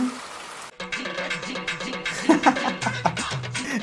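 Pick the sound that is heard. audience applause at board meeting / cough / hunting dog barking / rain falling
rain falling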